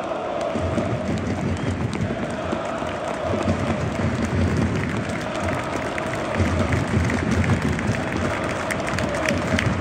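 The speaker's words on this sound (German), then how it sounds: "Er kriegt natürlich den Applaus." A stadium crowd at an HSV versus SC Paderborn football match applauds an injured HSV player, Stefan Ambrosius, as he leaves the pitch. The sustained clapping and crowd roar are steady and fill the stadium, with a commentator's voice faint underneath.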